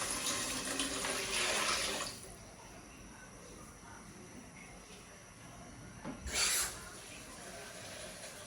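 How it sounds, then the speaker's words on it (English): Water poured into a cooking pot of beans and potatoes, a broad splashing rush lasting a couple of seconds, then a quieter lull and a second short pour, close by with no talk. "So I'll be adding water."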